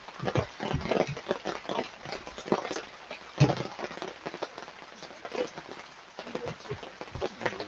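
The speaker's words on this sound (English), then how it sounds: "Almost like the rain is picking up too." Steady patter of rain with scattered drops striking a nearby surface, fairly dense and continuous throughout.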